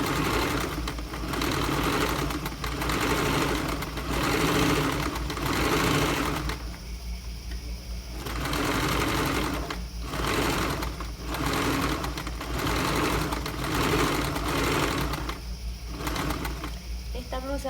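A sewing machine stitches a seam on a raglan-sleeve blouse, running in long, close, steady whirring bursts separated by brief pauses, with someone talking over it throughout.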